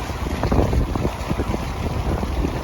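Steady wind noise and water rush aboard a sailboat under sail in about 14 knots of wind with the staysail out, a continuous broadband roar buffeting the microphone with no talking.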